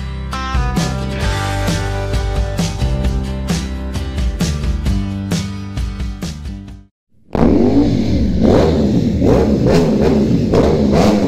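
A BMW F700 700cc motorcycle engine revs loudly and close up, with rising and falling throttle bursts after a brief silence. Before the silence there is a steady tonal, rhythmic passage.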